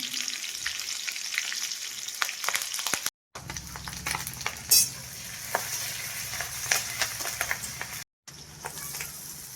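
Chopped onion fries in a pan, browning to a reddish colour, with a continuous close sizzle. Scattered scraping stirs run through it, and the sound cuts out briefly twice.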